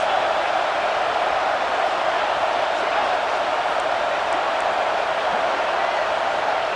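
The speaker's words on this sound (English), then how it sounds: "This crowd trying to make life miserable for this offense." Steady stadium crowd roar at a college football game in a video game, a dense continuous wash of massed voices that stays loud and even throughout with no single voice standing out.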